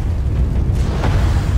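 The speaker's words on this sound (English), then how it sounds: "it's really nice of the cannon to flash before firing" A deep cannon blast rumbles in Alice Madness Returns, a single heavy low boom swelling and lingering, loud and close with no talk.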